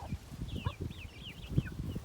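Young chicks in a henhouse squabble with thin, high cheeps and chirps over a low rustling, shuffling background, fairly faint and continuous.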